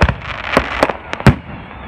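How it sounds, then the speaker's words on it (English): A July 4th fireworks show goes off in a rapid run of loud, sharp explosions, five or six booms and crackles within two seconds, heard from outdoors with no talking. "They're shooting a lot of fireworks up."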